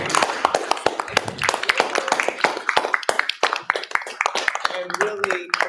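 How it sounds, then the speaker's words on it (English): A room at a Louisiana juvenile justice commission meeting breaks into a round of applause for the team, dense uneven clapping from a small group, close and lively, fading toward the end. "we need to stand up and give this team a round of applause"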